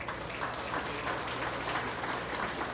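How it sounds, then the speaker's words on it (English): Applause from an outdoor political rally audience at the Fancy Farm picnic in Kentucky, a steady broadband clatter of many hands sustained throughout, moderately loud and without talk. "Let's give them a round of applause."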